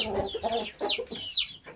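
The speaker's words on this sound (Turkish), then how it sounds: "Şu benim yavruluğundan beri beğendiğim horozum." A rooster, a pet raised from a chick in a Turkish poultry coop, gives a quick run of close, moderately loud clucks and short throaty calls lasting under two seconds.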